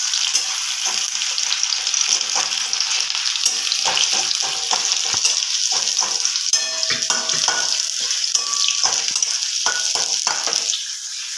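Chopped onion frying in hot oil in a pan while being stirred, a steady loud sizzle throughout with scraping and clinking of the spatula against the pan, close and continuous.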